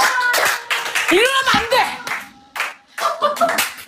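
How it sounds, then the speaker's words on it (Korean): A few people clap briskly in a small group during a casual drinking-show chat, the claps mixed with excited overlapping voices and laughter, close and loud. "박수."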